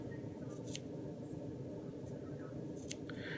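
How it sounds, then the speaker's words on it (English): Small scissors snipping along a marked line through silk fabric, soft quiet crisp cuts in a few short bursts over a low steady background hum. "I will take my scissors, my shears, these are little scissors, and I cut on the line"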